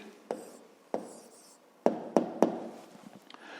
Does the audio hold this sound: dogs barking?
no